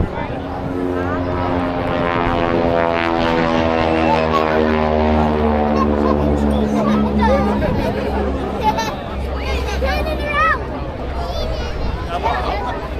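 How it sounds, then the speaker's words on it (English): A North American Harvard propeller aircraft flies past over the pier at an airshow in Blackpool, its loud rasping drone rising then fading as the supersonic propeller tips snarl, with crowd chatter and voices throughout. "rasping sound, that's the tip of the propeller just going supersonic."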